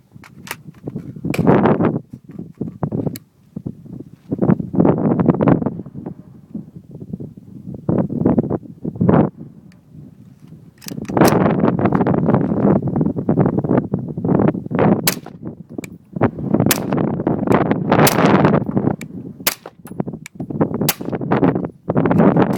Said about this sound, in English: 5 rounds with the suppressor